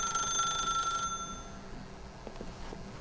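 A telephone rings in the video game The Stanley Parable, a bright electronic trill for about a second before it stops, leaving quiet room tone with faint soft sounds.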